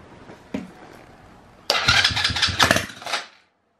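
A 110/125 cc quad bike engine catches and runs with a burst of throttle, a loud sputtering roar that rises abruptly after a faint click, holds for a second or so of uneven revving, then cuts off into silence.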